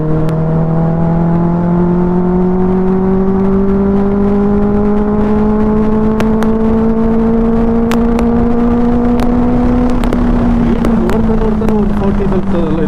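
A vehicle engine coasts in neutral with the clutch held on a road trip near Harangi dam, giving a steady, loud droning hum whose pitch drifts slowly upward and then eases back down throughout.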